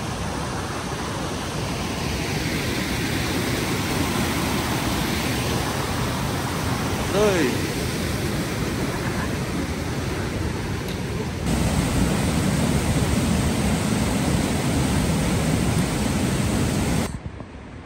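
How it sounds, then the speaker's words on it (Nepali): A waterfall on a trek near Pachpokhari, Nepal, pouring white water in a steady, full rush that fills the scene from start to finish, with a brief voice speaking over it. "यहाँनिर एकदम ब्युटिफुल झरना छ"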